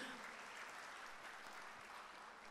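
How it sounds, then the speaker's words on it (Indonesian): A church congregation applauds during an online worship service, a steady, dense wash of clapping that stays even and fairly soft for the whole moment, with no voices standing out. "Yang setuju tepuk tangan bagi Yesus."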